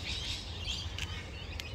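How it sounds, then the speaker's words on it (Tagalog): Birds chirping in a quiet park, a faint, steady wash of high twittering with a couple of brief sharper calls, all over a low background rumble. "madangog mo talaga ang mga bayong digdi na grabe maghuruni-huni"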